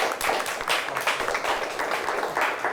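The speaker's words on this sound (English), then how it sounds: "Let's give them both a nice round of applause" Crowd applause fills the room for two high school quiz teams, Mt. Pleasant and Saginaw Heritage, at the close of a televised quiz show game: steady, dense clapping throughout, fairly close and uninterrupted.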